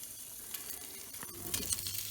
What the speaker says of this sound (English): You want your skillet hot so that you get that sizzle